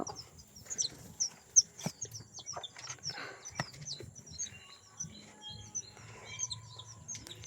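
Pigeons with their chicks at a nest give soft near chirps, coos and rustling, scattered irregularly among light handling noises.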